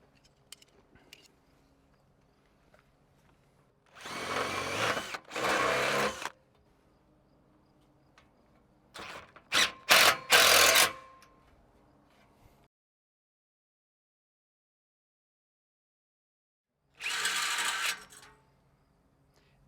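Drill bursts pre-drilling screw holes in a deck railing, three separate short, loud whirring runs split by quiet gaps, the middle one stuttering in quick stops and starts.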